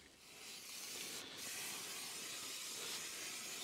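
Steam from a steam cleaner hisses steadily onto brake parts during a brake service on a VW T5 2.5 TDI California, a continuous bright spray that swells slightly after the start and stays faint, with no talk.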